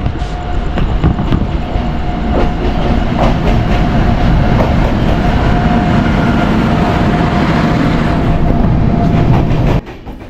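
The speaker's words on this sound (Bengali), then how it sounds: "ট্রেনও হাজির" The Kanchankanya Express pulls into Bolpur station with a loud, continuous rumble and the rhythmic clatter of its wheels, filling the platform before cutting off sharply near the end.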